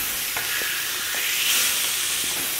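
Marinated fish, cooked pollichathu style, sizzling and spitting in a hot pan just after being flipped, a continuous close frying hiss with scattered pops and light stirring scrapes.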